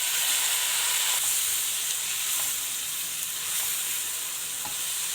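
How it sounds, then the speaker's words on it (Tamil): Crushed garlic and chopped tomatoes fry in a pan while being stirred for Jaffna-style chicken rolls, giving a loud, continuous sizzle and hiss with faint scraping strokes throughout. "இடித்த உள்ளியையும் இதோட சேர்த்து போட்டு கிளறுவோம்."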